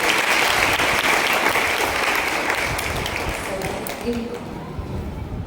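A crowd applauds loudly for two children at a summer camp talent show, with dense, steady clapping that slowly thins out toward the end.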